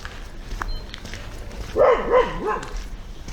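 A dog barks and whines in a short burst of a few yelps, fairly close, over quiet outdoor background noise beside a fishing lake.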